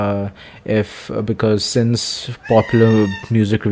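A cat meows loudly several times indoors while a person talks over it, the cries overlapping and interrupting the speech.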